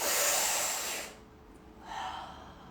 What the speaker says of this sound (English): Let's do 6 more breaths.